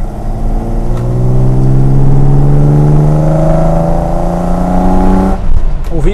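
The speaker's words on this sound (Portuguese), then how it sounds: "Ouvindo aqui o motor, a sinfonia." A BMW 635 CS Hartge engine revs loudly and steadily, pitch climbing as it accelerates, then drops off abruptly near the end.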